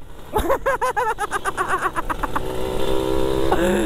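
Motorcycles in a sport-bike class ride through the streets of Makassar, one engine revving hard in quick rising bursts up close, then settling into a steady drone with traffic around.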